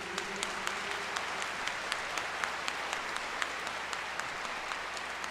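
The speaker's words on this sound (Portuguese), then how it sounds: "Uma salva de palmas para Jesus." Congregation applauding during a Sunday Mass homily in a church, steady clapping heard faintly, with a few sharper claps standing out against the wash.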